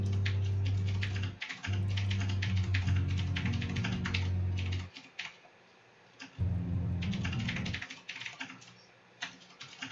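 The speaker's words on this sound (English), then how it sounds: "I don't know how the hell the keyboards are really loud." Loud computer keyboard typing clatters in rapid bursts with short pauses, dense close key clicks mixed with a low background hum, during an online fantasy game session.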